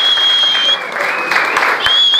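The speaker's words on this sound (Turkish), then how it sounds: "Bir kocaman alkış alabilir miyim?" Audience applause at a live evening show with an interview, a full, loud burst of clapping from the crowd, with a sustained tone running underneath.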